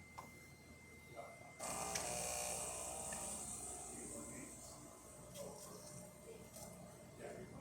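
A Saeco espresso machine runs its self-cleaning cycle, switching on with a steady mechanical whirr and hiss that holds loud and unbroken under faint background.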